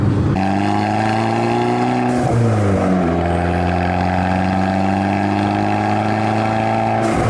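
A 2013 Fiat 500 Abarth small hatchback engine pulls loud and steady from inside the cabin, revs climbing, dropping sharply at a gear shift around three thousand rpm, then rising again with a strong, droning note.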